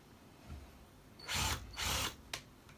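A power drill runs in two sustained bursts of about half a second each, followed by a brief click. It is fairly loud and close against a quiet room, and the drill was set in reverse.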